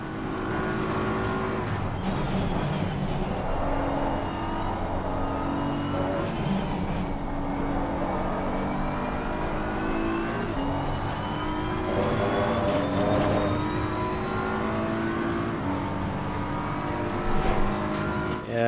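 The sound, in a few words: McLaren race car approaching in a racing game at Suzuka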